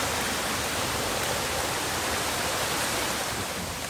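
Waterfall at Makuragiyama in Matsue, Shimane, pouring as a steady, dense broadband roar of falling water, close and loud throughout with no voices.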